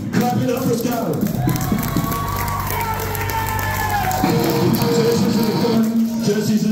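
A live show audience at Revelator Coffee Company in Birmingham, Alabama cheers and whoops for a band, a dense, roomy crowd noise of shouts and scattered applause with voices mixed in.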